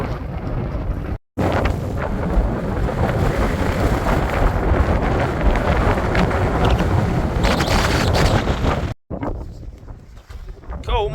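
Strong mountain wind roars and buffets a microphone near the main divide, loud and continuous with gusting texture, cutting out briefly twice.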